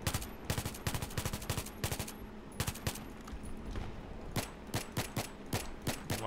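Rapid gunfire in Battlefield 3 during a tank battle on the Armored Kill maps, with dense bursts of automatic shots and sharp cracks coming in uneven clusters, loud and close, with no talking.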